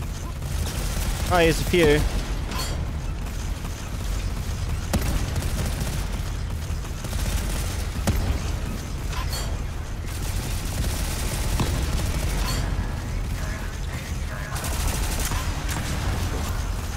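Pistol turret firing in the video game Volcanoids: dense bursts of rapid gunfire running through the clip, loud and constant, with someone talking briefly over it.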